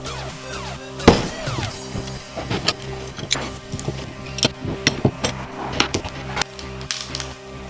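Clamps being removed from a glued bent lamination for a phone and watch caddy, heard as a run of sharp clicks, knocks and rattling taps, with one loud clack near the start and irregular hits following.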